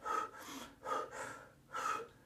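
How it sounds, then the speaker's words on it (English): Exaggerated heavy breathing demonstrates the panting of someone after a long run: three loud, rhythmic gasping breaths, close and alone, with brief quiet gaps between them. "imagine you took on a long run and you're overemphasising your breathing"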